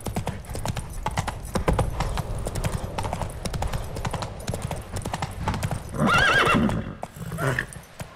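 Horse hooves clip-clop at a steady gallop in the video game Witcher 3, close and continuous, with a loud neigh and whinny near the end.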